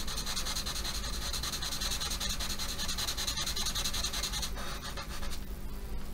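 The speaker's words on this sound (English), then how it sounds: "So I'm just going over it rather than pushing. I'm just kind of colouring over it." A coloured pencil rubs lightly back and forth over paper, close and continuous, in quick scratchy strokes with no speech.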